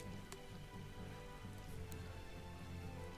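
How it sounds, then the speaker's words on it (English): Steady rainfall in the video game Tales of Vesperia, a soft continuous hiss of drops with a faint low hum underneath, quiet and even, with a couple of brief sharper ticks. "Now it's raining."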